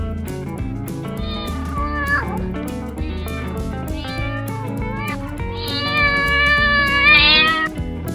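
A farm cat meows repeatedly, several drawn-out, close, insistent cries with bending pitch over a busy background, the last cry louder and higher.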